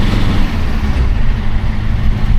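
Steady road traffic from cars and trucks on a main highway above a residential area in Sapanca, Türkiye, forms a continuous low engine rumble that stays loud and even throughout.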